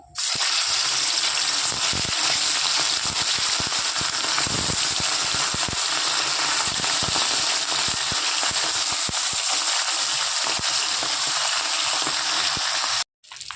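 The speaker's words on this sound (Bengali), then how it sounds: "এদিকে তেল গরম হয়ে গেছে, এক এক করে মাছগুলো ছেড়ে দেবো।" Small bata fish frying in hot mustard oil give off a loud, steady, dense sizzle that runs almost the whole time, dropping out briefly just before the end.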